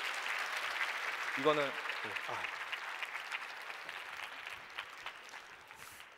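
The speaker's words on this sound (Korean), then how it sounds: "다시 한번 뜨거운 박수 부탁드리겠습니다" A large audience at a Korean forum stage show applauds steadily in a broad, even wash of clapping, with a host speaking briefly over it as the applause gradually tapers.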